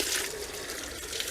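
Steady running water rinses acid out of a pool salt chlorine cell, a continuous broadband splash and hiss close by that stays even throughout with no voices.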